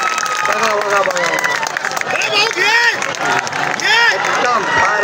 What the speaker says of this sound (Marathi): तो जरा टाळ्या वाजवा. त्यांना जरा प्रतिसाद द्या.